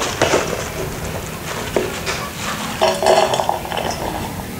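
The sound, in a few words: pots and utensils clinking while cooking fried rice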